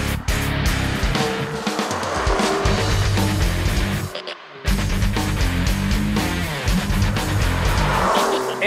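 A 2021 BMW 430i engine revs loud and close as the car accelerates hard. A brief dip interrupts the sustained roar, which then resumes, with tire noise mixed in and no talking.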